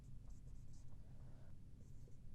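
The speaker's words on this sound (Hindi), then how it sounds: "मैं भी यहाँ पे टीच लिख रहा हूँ अभी" Chalk or marker writing on a board during a grammar lesson, with faint scratchy strokes in short bursts over a low room hum and no speech.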